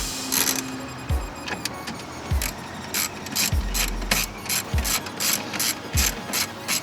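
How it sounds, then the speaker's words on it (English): A quick ratchet with a T30 bit tightens clamps on an Audi B8 S4 supercharger, giving several short, close, crisp clicking bursts spaced about a second apart, with faint mechanical clunks between. "A little quick ratchet"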